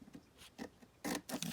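Scissors snipping through tea dyed parchment paper in a few quick, close, soft crisp cuts, the last two strokes louder and longer.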